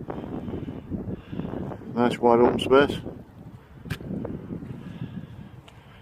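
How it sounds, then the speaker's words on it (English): Strong wind buffeting the microphone on an open moorland hilltop, a steady rushing roar that runs under someone talking throughout. "I hope you can hear because of this wind, it's very windy"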